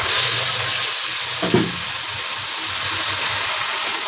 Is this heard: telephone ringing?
no